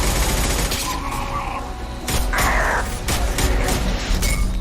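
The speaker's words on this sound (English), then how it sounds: "Suppression fire!" Suppression gunfire from a Mass Effect firefight: loud, dense bursts of weapon fire with mechanical clatter and sharp impacts, continuous throughout with no voices.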